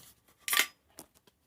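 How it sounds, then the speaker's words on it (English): A beer can or bottle being opened outdoors in the cold, one sharp hissing burst followed by a fainter second hiss, close and brief. "That's the sound of beer opening."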